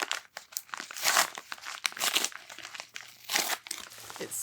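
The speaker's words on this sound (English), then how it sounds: "Usually I have to cut packages open, but I am just shredding like a boss today." Package being ripped open by hand, with crinkling, tearing paper and plastic in bursts of rustle and crunch, close and fairly quiet, no talking.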